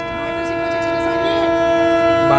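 The Kutch Superfast Express sounds a loud, sustained horn with rich stacked tones while overtaking an Ahmedabad–Borivali express, the blare growing slightly louder as it nears.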